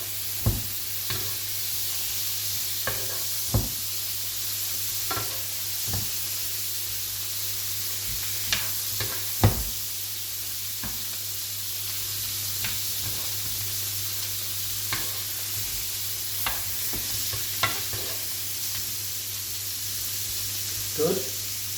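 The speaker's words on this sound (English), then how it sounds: "I'm just going to, kind of glaze it with the butter, get a kind of flavour of the garlic into it" Steak sizzles steadily in a pan of butter with garlic and thyme, a constant frying hiss broken by repeated spoon clinks and sharper spits while someone talks over it.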